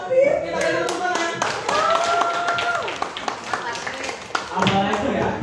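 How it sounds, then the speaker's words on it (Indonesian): Hand claps from a gathering at a community learning centre event, brisk taps scattered through steady background chatter and voices, moderately loud throughout. "Kita beri tepuk tangan."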